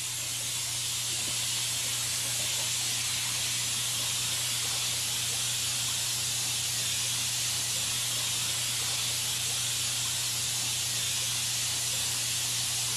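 A steady, unbroken spray of deionized water from a vintage spray gun hisses for the whole stretch, with a low constant hum underneath and no talking.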